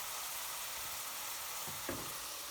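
Onions frying in a lidded pot for chicken madras give off a steady, soft sizzle on low heat. It holds constant throughout, with a faint stir or knock near the end.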